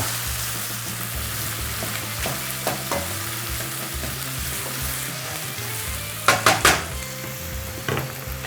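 Onions sizzle in a pan for a fluffy rice omelette, with a steady frying hiss and occasional stirring scrapes, and a quick burst of three sharp utensil clacks near the end.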